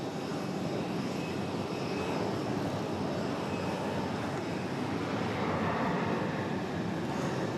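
An airplane approaching to land at Raleigh-Durham airport gives a constant, loud engine roar with no break, heard alone throughout.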